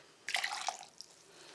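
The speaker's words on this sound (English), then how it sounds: "All I've got to do is strain it through a cloth," Strained pig's head stock, boiled with the feet and tail, drips and trickles through a cloth in a short splashy burst, then a single faint drip, close and quiet.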